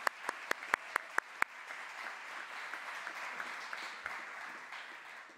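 At a Central Florida Christian Academy graduation ceremony for the Class of 2020, a few loud, close claps ring out first, then a soft, distant spread of audience applause carries on.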